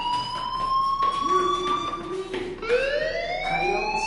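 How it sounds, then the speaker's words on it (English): School fire alarm in the video game Life is Strange, a loud electronic siren with rising and falling wailing tones that sweeps and restarts, continuous and close, with no talk over it. "Hey, do you hear that fire alarm?"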